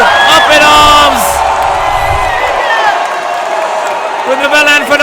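An Indonesian crowd at a women's padel final at the APPT Masters Finals in Jakarta roars and whoops loudly for the whole stretch, with commentary talking over the noise.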